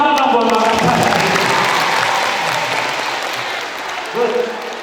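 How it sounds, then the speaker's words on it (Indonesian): Audience applause for Makassar at a motivational seminar, a dense sustained clapping from a large crowd that gradually fades over several seconds, with a voice briefly cutting in near the end. "Tepuk tangan dong buat Makassar"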